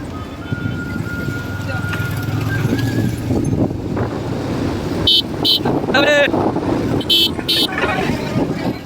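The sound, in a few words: vehicle driving through forest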